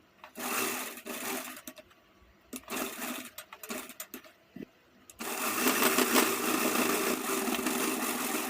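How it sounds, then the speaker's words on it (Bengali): A sewing machine stitches fabric for a sleeve, first in short stop-start bursts, then in one long continuous run of close, even mechanical whirring. "শেষের দিকে মুড়ে সেলাই করে নেব।"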